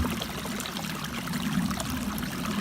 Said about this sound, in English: enjoying the sound of the water